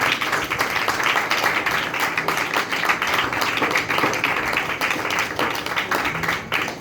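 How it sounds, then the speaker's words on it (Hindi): A congregation at a church preaching service claps steadily to welcome Pastor David, a dense, continuous applause with no break and fairly close to the listener. "तो आइए खुदा के कलाम को, खुदा के खादम को, पास्टर डेविड को वेलकम करते हैं अपनी तालियों से"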